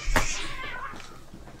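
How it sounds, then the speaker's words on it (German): Cat in the Phasmophobia ghost-hunting game, letting out one sharp, loud, aggressive meow-like yowl that trails off into a fading wail, close and heard alone. "Okay, die Katze geht ab."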